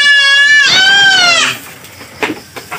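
Boer goats on a goat farm give a loud, close, wavering bleat lasting about a second, followed by fainter rustles and small bumps.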